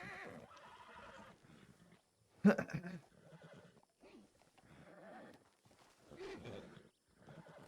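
A horse in a video game roleplay gives a sharp neigh mid-scene, brief and fairly loud over quiet background, with scattered voices talking before and after.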